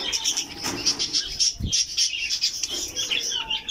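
Cockatiels and English budgies kept in a backyard chirp and tweet in quick, bright bursts, close and fairly loud, with a brief flutter of wings partway through.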